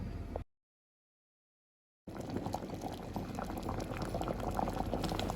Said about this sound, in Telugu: సాంబార్ పౌడర్ వేసిన తర్వాత ఒక ఫైవ్ మినిట్స్ మరగనివ్వాలి